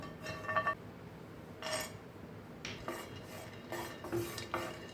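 Cashews and almonds stirred in a dry pan while roasting, with intermittent scraping and clinking of a utensil against metal in short bursts, fairly faint and close, with no talking.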